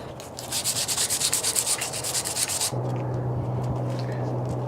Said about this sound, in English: So now I need to get some sandpaper. I'm going to start out with the coarse 60 grit.